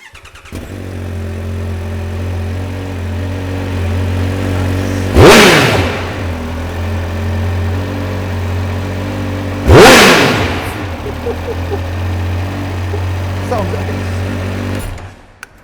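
A Triumph Speed Triple 1200 RS idles with a steady, throaty hum, then is revved hard twice in sharp bursts a few seconds apart, each rising and falling quickly, with a lighter blip near the end; voices talk faintly in the background.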